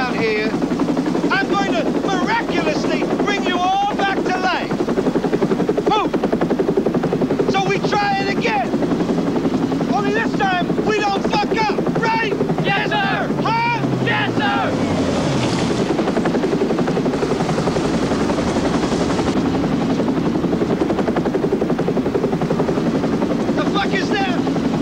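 A helicopter in a war film scene makes a continuous loud rotor and engine roar under shouted voices and bursts of gunfire.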